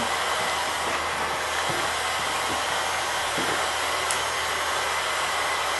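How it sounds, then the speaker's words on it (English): An 1800-degree heat gun blows hot air in a steady, loud, broadband roar that holds evenly throughout, with no talking. "That's a 1800 degree heat gun, and it blows some pretty amazing heat."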